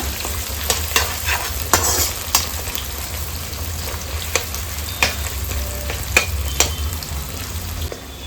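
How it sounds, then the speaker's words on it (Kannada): Two medium chopped onions frying in a pan for pepper chicken, a steady close sizzle running throughout with repeated sharp scraping clicks of a spoon stirring; no voices. "ಎರಡು ಮೀಡಿಯಂ ಸೈಜ್ ಈರುಳ್ಳಿನ ಕಟ್ ಮಾಡಿ ಇಟ್ಕೊಂಡಿದ್ದೀನಿ. ಅದನ್ನು ಸೇರಿಸ್ಕೊಳ್ಳೋಣ. ಚೆಂದ ಫ್ರೈ ಮಾಡ್ಕೊಳ್ಳೋಣ."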